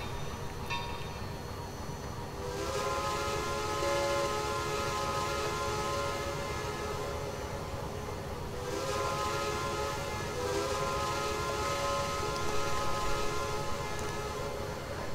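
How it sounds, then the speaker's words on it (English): A steam locomotive whistle from a Texas State Railroad 2-8-2 No. 400 in the Trainz 2019 game sounds in two long sustained blasts, loud and steady over a constant rumbling engine background. "The whistle is of nice quality. It does have a little bit of a noticeable changeover from the beginning to the continuous loop"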